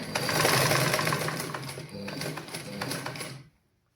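A sewing machine stitches cloth in a fast, steady mechanical rattle up close, running for about three seconds before stopping abruptly into silence.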